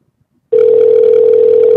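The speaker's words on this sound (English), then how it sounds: "let's give old Mr. Rick Ector a call via Skype" A Skype call ringing tone starts sharply after half a second of near silence, a loud, steady electronic tone with a slight pulsing texture that continues to the end.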